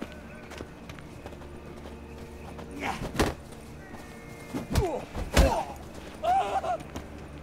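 In The Witcher 3: Wild Hunt, several sharp hoof thuds and clops from a horse ring out during combat. They sit over a steady game ambience, with grunts and scuffling between the strikes.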